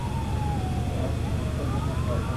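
Emergency vehicle siren wailing in a steady sweeping tone at a mock drunk-driving crash scene, heard under a dense, constant roar of outdoor noise and traffic, moderately distant, without speech.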